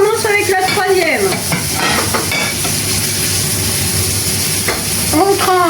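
Cordon bleu cutlets frying in a pan, a steady close sizzle and hiss running throughout with brief background voices at start and end.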